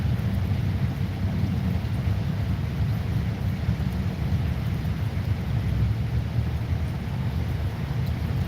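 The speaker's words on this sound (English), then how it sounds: "rain is cool and all, and we need it" A thunderstorm with rain during a walk across America, a dense, steady rumble of rainfall and wind buffeting the microphone for the whole stretch, loud and continuous with no distinct thunderclap.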